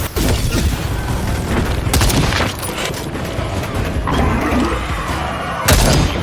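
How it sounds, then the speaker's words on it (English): Heavy booms and crashing blasts from a grenade in the shooter Second Extinction, several loud impacts with debris-like bursts scattered across a few seconds, the biggest hit near the end. "it's time to use the grenade"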